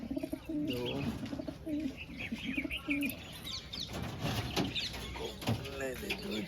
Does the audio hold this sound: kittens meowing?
no